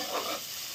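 Onion and garlic hit hot oil in a home village kitchen, a brief soft hiss of frying, fairly faint and alone without talk.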